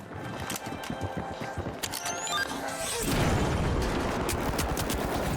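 Bursts of rapid gunfire followed by a loud, sustained RPG explosion roar that fills the rest, in the video game THE FINALS, with no talking.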